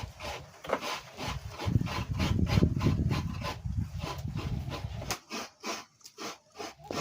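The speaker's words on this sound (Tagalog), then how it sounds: "Kayod ng kayod, kayod ng kayod. Po mga kananay, tapos ng aking kinayod ng niyog." Coconut meat is grated by hand with a grater in a home kitchen, giving a rough, rhythmic scraping that runs in close, repeated strokes, heavier in the middle and then lighter and more spaced.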